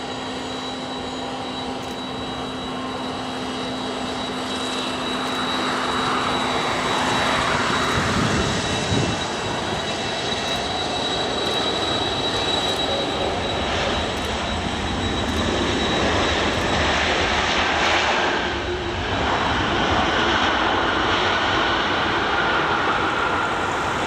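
A jet airliner roars loudly on landing at Geneva Airport runway 23, a sustained broadband engine rumble that swells and holds, heard outdoors from a spotting position with no talk.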